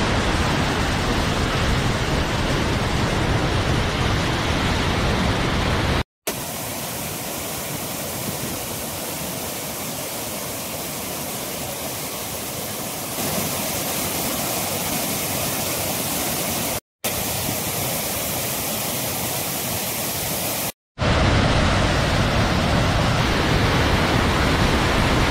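Bopath Ella waterfall in Sri Lanka roars as a dense, continuous rush of falling water, loud and close, with a few abrupt cuts between takes and no talking.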